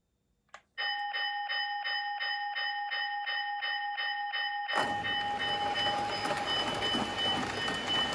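A model train on a home layout comes to a stop. A steady electronic bell rings in even pulses, then gives way to a loud, continuous hiss of air, close by and without speech.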